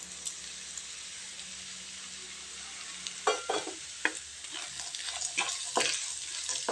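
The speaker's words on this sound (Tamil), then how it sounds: "இதை இப்போ வதக்கிக்கலாங்க." Peanuts sautéing in a pan for rice kara kozhukattai, a steady close sizzle with scraping stirs and clatters of a spoon growing busier in the second half, no voices.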